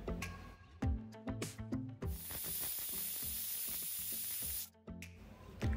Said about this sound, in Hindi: ढक्कन रखकर दो सीटी लेकर गैस बंद करेंगे